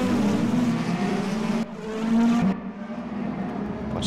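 Race cars in the Mercedes-AMG eRacing video game pull out of the pit lane, a steady droning engine note that dips briefly and then rises again as several cars stream away one after another.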